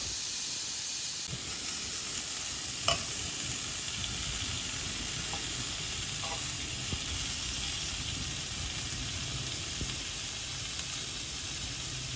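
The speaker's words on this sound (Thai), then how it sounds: "แล้วก็เอาไป ย่างนิดหนึ่งนะทุกคน" Slices of cheese grill in a hot pan, giving a steady, even sizzling hiss that runs unbroken for the whole stretch, with no one talking over it.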